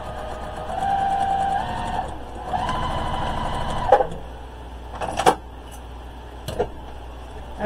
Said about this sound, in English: I got to turn my sewing machine on first.